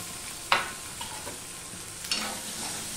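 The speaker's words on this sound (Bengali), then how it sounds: "সেই তেলে আমি এই পুঁই দানাগুলোকেও ভেজে নেব।" Malabar spinach seeds fry in oil over medium-low heat with a soft, steady sizzle close by, punctuated by two sharp scraping clatters of a spatula stirring and a few lighter taps.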